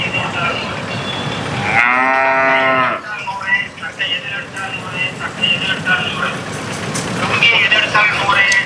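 Cattle at a native cattle market in Kundadam, Kangayam breed country, give one loud, long moo up close amid crowd murmur and vehicle noise, with people talking throughout.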